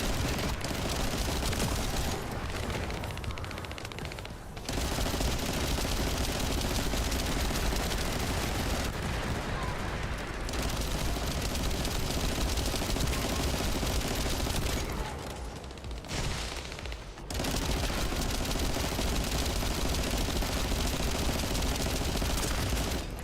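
Sustained automatic gunfire from The First Descendant, a dense unbroken barrage of rapid shots with a few brief pauses, loud and close throughout with no talk.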